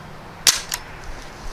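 A Crosman Panther Arms DPMS BB rifle fires once outdoors, a sharp close crack with a quick second tap of the BB striking, then quiet ambient noise.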